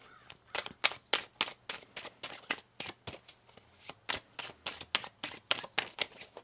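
A tarot deck is shuffled repeatedly at close range, quiet crisp riffles and card slaps coming in a steady, quick rhythm with no voices.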